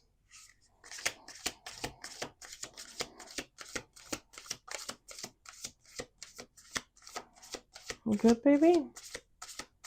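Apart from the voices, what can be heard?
shuffling playing cards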